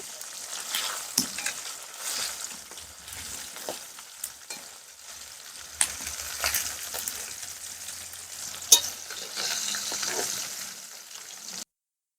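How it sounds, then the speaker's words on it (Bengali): Pieces of rui fish fry in oil after being turned over, giving a steady close sizzle with scattered pops and crackles and the odd clink of a utensil throughout. "মাছগুলো একদিকে ভাজা হয়ে গেছে অন্যদিকের জন্য উল্টে দিচ্ছি অন্যদিকে ভাজার জন্য"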